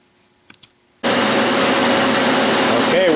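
A Clausing lathe takes a facing cut on a pulley part under cross feed. After a couple of faint clicks, a loud, dense, continuous machining roar starts abruptly and holds steady.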